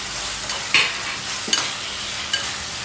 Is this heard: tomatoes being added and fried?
yes